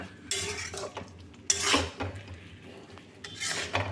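Chopped mango leather stirred into tomato chutney in a pot, with bursts of utensil scraping and clinking against the metal, three or four distinct strokes, close and fairly loud, with no talking.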